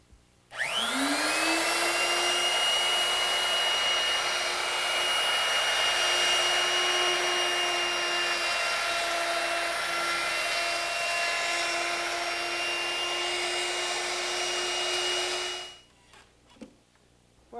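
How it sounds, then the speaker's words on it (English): A router fitted with a chamfering bit easing the sharp top edges of a wooden workbench, whining up to speed and holding a loud, steady high-pitched drone before spinning down. "I think I'll ease those using a chamfering bit mounted in my router."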